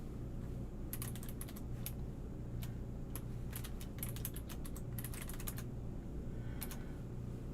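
Typing on a computer keyboard to log in, soft irregular key clicks in short bursts with pauses between, close and quiet over a constant low hum.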